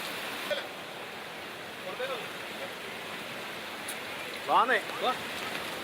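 Heavy rain pours down over Kannur city streets as water floods into shops, making a steady, even hiss throughout with a few faint, brief voices breaking through.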